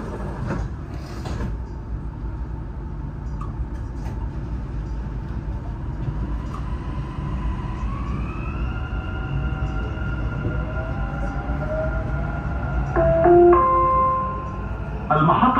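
A Dubai Metro train closes its doors and pulls away from the station, with a clunk of the doors followed by a rising electric motor whine and steady rolling rumble that builds as the train gathers speed.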